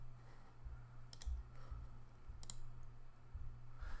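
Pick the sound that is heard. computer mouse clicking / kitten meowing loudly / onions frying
computer mouse clicking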